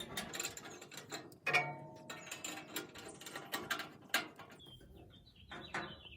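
Bolts with shouldered shanks tightened on the frame of a Camp Chef Woodwind WiFi pellet grill, giving close, irregular bursts of ratchet clicking and metallic knocks with short pauses between turns.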